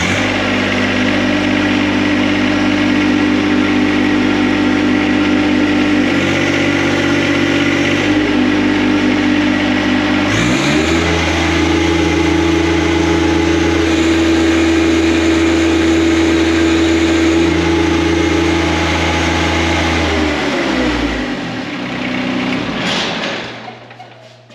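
A John Deere 1025R tractor engine runs at raised RPM, a loud, close, steady drone whose pitch steps up and down several times before winding down near the end.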